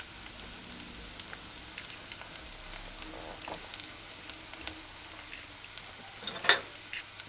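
Ginger, garlic and vegetables frying on a stove over low heat, a faint steady sizzle with occasional soft stirring clicks, no voices.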